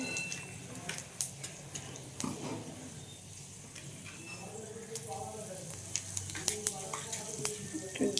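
Panch phoron spices sizzle in hot oil in a pan with a faint, fizzy crackle and scattered sharp pops and ticks, while a voice is faintly heard at times.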